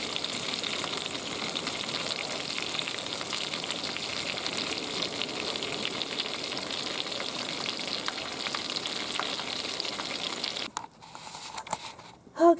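A pot of beans set to a low simmer in a van kitchen gives off a steady, close sizzling crackle for about ten seconds, then quiets, with a few brief clatters at the end.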